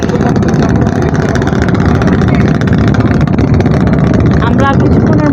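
A trawler's engine drones loud and steady on a river near Dhaka's Sadarghat, a constant close-up motor rumble with water wash filling the whole stretch and a brief voice rising near the end.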